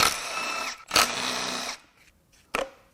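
Power tool whirring while the oil pump pickup is removed from a failed Ford/Mazda 2.3L MZR engine: two sustained high-pitched buzzing runs broken by a short gap, then a brief final burst, close and fairly loud.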